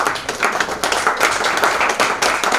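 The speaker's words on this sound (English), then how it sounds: "Let's just give them a round of applause" A round of applause from an audience at a school charity dinner show, a dense, steady patter of many hands clapping at fairly close range, sustained and even throughout without any voices.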